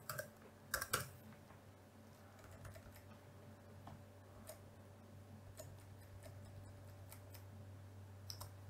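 Soft, irregular keyboard typing while code is entered in a programming lesson, faint clicks spread through the stretch with a couple of louder taps near the start over a steady low hum.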